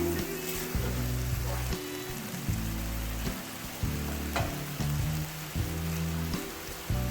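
Yogurt and chicken for an Afghani karahi gosht fry in a pan with a close, continuous sizzle, broken by a few sharp crackles and stirring scrapes, with no voices.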